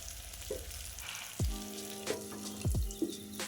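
Brinjal frying in oil in a pan on a low flame, a soft, faint sizzle with a few sharp knocks and utensil taps standing out, no voices.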